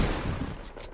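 Pump shotgun fire in the Fortnite video game, a loud, dense, sustained burst of gunfire filling the whole moment with no talk over it.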